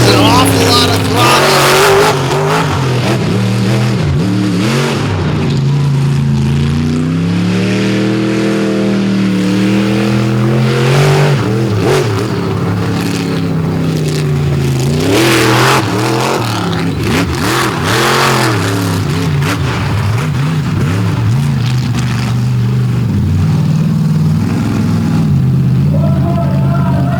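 Truck engine at full throttle during a truck pulling event, a loud sustained roar with rising and falling revs and squealing tires, heard under an announcer's commentary.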